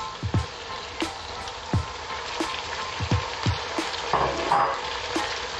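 Tomatoes go into a hot pan for a village spinach stew, and a soft, steady frying sizzle follows, broken by several sharp pops and spatters at irregular intervals, with no one talking.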